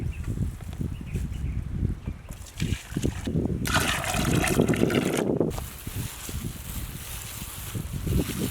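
Water poured into a bowl of bajji batter, a trickling, splashing pour that builds in the middle stretch over kitchen clatter and stirring.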